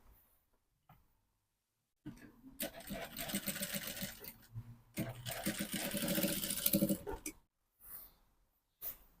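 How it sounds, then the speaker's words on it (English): A sewing machine stitches the hem of a palazzo pant in two loud, close runs of rapid mechanical whirring separated by a short pause, with brief quiet handling sounds before and after. "the next thing now is to stitch on it."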